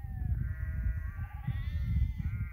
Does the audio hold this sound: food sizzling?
no